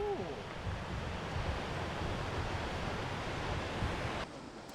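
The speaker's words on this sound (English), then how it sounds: "that's a waterfall" Steady broadband rush of a waterfall tumbling over granite rock near Tumbarumba, NSW, loud and continuous with a brief tonal whistle at the start and a slight drop in level near the end.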